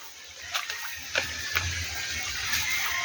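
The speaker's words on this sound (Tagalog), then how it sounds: "Ito yung ilog pala." A small river that people are about to wade across gives a steady hissing rush of flowing water, with a few faint clicks and knocks nearby.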